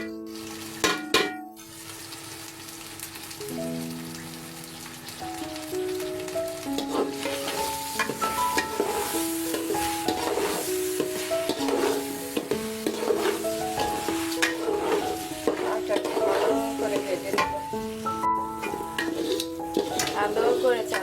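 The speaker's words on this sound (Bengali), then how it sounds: "ভালো করে চালটা ভেজে নিচ্ছি।" Rice for biryani fries and is stirred in a pan, giving a soft sizzle with repeated scraping and clinking of the spoon against metal, while a voice speaks over it throughout.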